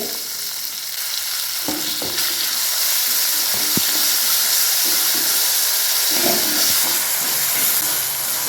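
Green chillies, chopped tomato and onion frying in a pan: steady close sizzling and hissing throughout, with occasional soft stirring knocks.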